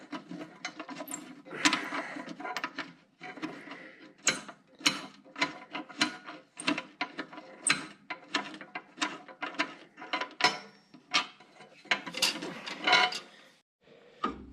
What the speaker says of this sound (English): we got to remove this bolt on this side. It's a little T-headed bolt with a wing nut on the bottom